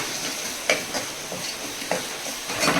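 A spoon stirs red chilli, garam masala and turmeric into sizzling dal fry in a pan: soft scraping strokes every half second or so over a steady oily sizzle, close and fairly quiet.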